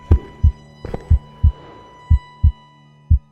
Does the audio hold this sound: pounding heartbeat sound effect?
yes